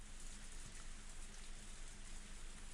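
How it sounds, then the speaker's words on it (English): Heavy rain in the video game Higurashi When They Cry Hou, a steady dense hiss of downpour pattering on surfaces, continuous and even with no voices. "It was raining far too hard to see the moon"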